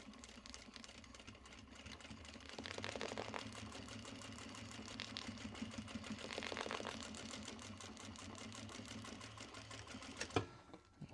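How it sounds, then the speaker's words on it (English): Sewing machine running steadily to wind a black thread bobbin, a continuous low mechanical whir with a rapid fine rattle, moderately quiet and alone, ending with a sharp click near the end. "I want to wind the next black bobbin so that when it's time to wind the white bobbin, the black thread is"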